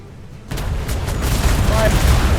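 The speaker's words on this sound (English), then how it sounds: "All guns fire at this thing." Ship cannons firing a broadside in the DarksideRP naval game: a sudden heavy burst of rumbling booms after a brief quiet moment, then a dense, sustained roar of overlapping gunfire.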